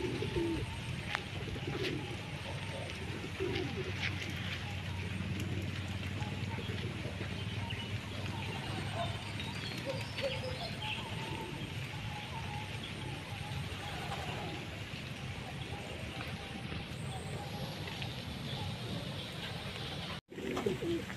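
Racing pigeons that have just landed coo softly near a loft, low repeated calls under a steady outdoor background with other birds, faint vehicle noise and occasional talk.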